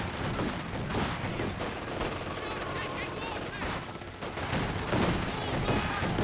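Rifle volleys and bursts of gunfire in a Company of Heroes 2 battle crackle densely and continuously, with overlapping shots and dense battle noise under a commentator's voice.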